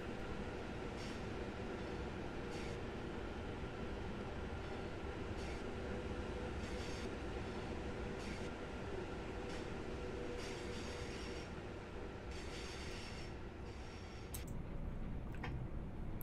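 Avanti train rolling along the Northern Lines in the Train Simulator 2020 game, near Blackpool: a steady low rumble of wheels on rail with faint periodic clicks, continuous and unbroken, no voices.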